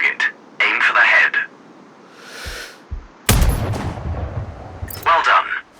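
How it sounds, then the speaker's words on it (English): A single loud sniper rifle shot in Sniper Ghost Warrior Contracts cracks out midway, followed by a rumbling tail, with radio-filtered voice instructions before and after. "Now, shoot this target."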